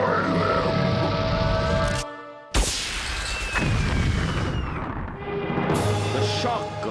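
Attack explosions strike a ship in the Wizardry 8 video game: a continuous loud, rumbling blast texture with a brief cut to silence midway, then a sharp impact and renewed roaring booms, with tonal game music or effects layered throughout.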